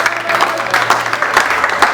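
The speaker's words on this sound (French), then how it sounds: "je vais inviter la maman marraine, celle qui a encadré le couple, à bien vouloir s'élever sous les applaudissements déjà" An audience claps for the godmother at a 25th wedding anniversary celebration, producing a dense, lively patter of applause with some voices mixed in underneath.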